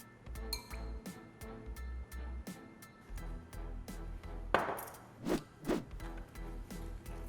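Sauce ingredients, including coconut aminos, stirred in a glass bowl: light clinks and taps of a utensil against the glass, scattered at first, then a few louder scraping swirls toward the end, close and quiet.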